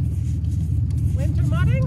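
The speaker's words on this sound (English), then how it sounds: "Oh, still idling. Still idling. I just leave her running." A 4x4 truck stuck deep in a mud hole idles with a steady low rumble close by, with people talking over it.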